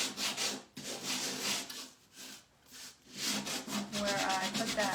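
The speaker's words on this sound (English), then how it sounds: "Now I'm just gonna sand it down" Sandpaper rubbed over a painted wooden heart in steady back-and-forth strokes, close and fairly quiet, with brief pauses between passes.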